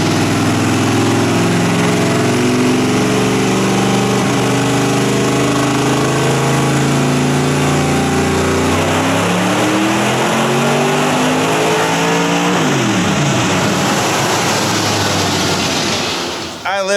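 A 1000 hp Hemi engine roars through a dyno pull with bullhorns on small headers, a ceiling-shaking blast climbing steadily in pitch for many seconds before cutting off abruptly, very loud and close.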